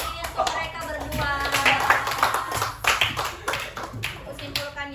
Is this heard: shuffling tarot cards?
no